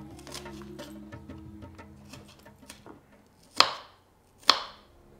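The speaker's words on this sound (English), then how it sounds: "So I'm just chopping the onions now." A few quick chopping sounds over a low background hum, then two sharp, loud knife strikes through onions on a cutting board with pauses between them.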